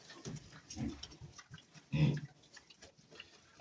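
A farm pig stirring and getting up while being measured with a tape, giving a few short low grunts spread across the moment, the loudest near the end, fairly close.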